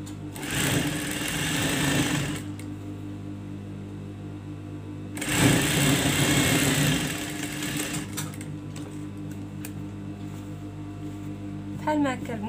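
A sewing machine runs a chain stitch along an abaya in loud bursts of rapid stitching, about two seconds each, separated by quieter stretches, with someone talking over and between them.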